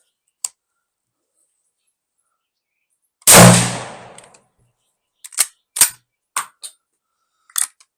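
A Carcano military surplus rifle fires a single loud, sharp shot that rings out and decays over about a second. A few shorter metallic clacks of the bolt cycling follow alone, with no talking.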